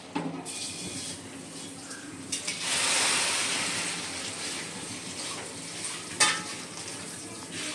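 Mutton and chicken cooking in a pan give a steady sizzling hiss that swells when stirred, with occasional scraping and clinking of the utensil, fairly close and moderately loud.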